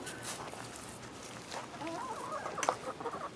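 Chickens cluck softly nearby, a few sharper squawks rising toward the end over a rustling background.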